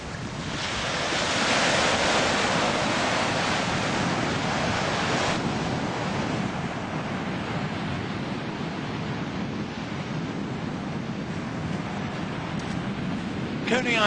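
Surf rolls in steadily at Coney Island Beach in Brooklyn on a cold, empty morning, a continuous broad wash of waves with heavy wind rumble across the microphone.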